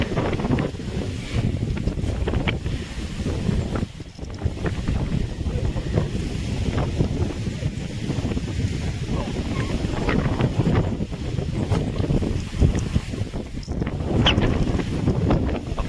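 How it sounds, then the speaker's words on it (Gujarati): Strong cold wind blowing across an open spot beside a lake before rain, a loud, continuous gusty roar buffeting the microphone throughout. "ફૂલ ઠંડો પવન આવે છે"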